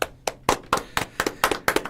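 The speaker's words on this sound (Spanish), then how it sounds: "los despedimos con un aplauso" A small studio audience at a live AM radio show claps to see off the guests, a brisk string of sharp, distinct claps from a few nearby hands.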